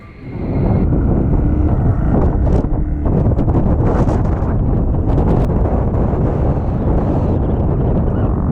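Strong wind on a mountain top in Ladakh roars and buffets close to the microphone, a constant heavy rumble with gusty swells that continue without a break.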